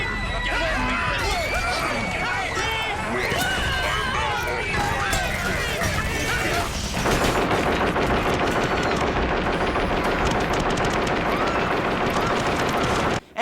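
Gatling guns on the D-Walker, a fast walking mini Metal Gear in a Metal Gear video game, fire a loud, sustained rapid burst through the second half, following a busy stretch of mixed game sounds.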